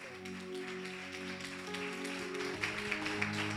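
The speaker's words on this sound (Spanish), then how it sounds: "fuerte aplauso a mi Jesús." Church congregation applauding during a worship service, a steady wash of clapping that swells slightly toward the end over sustained musical tones, moderately distant and fairly soft.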